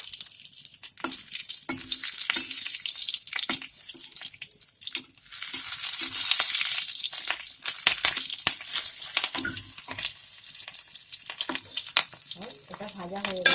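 Black cumin seeds and green chillies fry in hot oil, a crackling sizzle with sharp pops and stirring scrapes, occasional bursts of spattering, close and moderately loud without talk.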